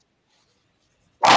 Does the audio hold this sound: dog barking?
yes